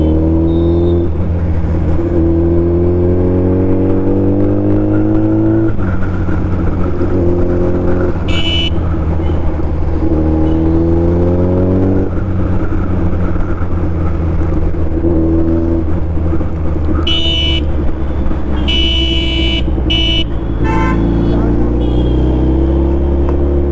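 A Suzuki Hayabusa 1300cc motorcycle, racing on a street in Saharanpur, revs repeatedly with rising and falling engine pitch through several gear pulls, loud and close, while people talk and shout over it.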